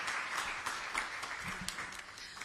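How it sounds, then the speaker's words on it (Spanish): An audience at a science and technology council event welcomes a team with sustained applause, faint and somewhat distant, steady claps with a few sharper individual hits standing out. "Les recibimos con un fuerte aplauso."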